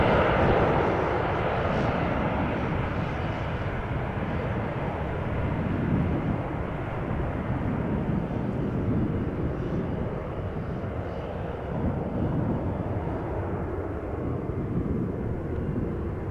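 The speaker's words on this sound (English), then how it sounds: "we should be seeing the A380 depart from this runway over here" An Airbus A380 departing from a runway at Amsterdam Schiphol Airport gives a steady, loud, broad jet roar that holds for the whole stretch, with no talk over it.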